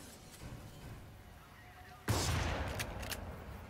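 Gunfire from the Scarab Mod 2 weapon in the video game Crysis 3 erupts suddenly midway as a loud burst of rapid shots after a quieter stretch of faint game ambience.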